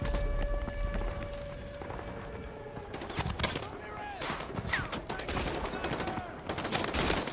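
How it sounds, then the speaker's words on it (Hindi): Call of Duty Modern Warfare 2 campaign gunfire crackles in dense bursts and rapid volleys, growing busier after the first few seconds, mixed with game ambience and heard at moderate volume. "कहाँ से मरा रहे हैं ये गोलियां"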